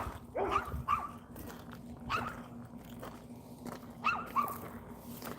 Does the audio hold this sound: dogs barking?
yes